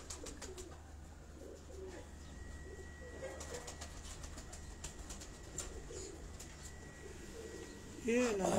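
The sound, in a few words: Firozpuri cross pigeons cooing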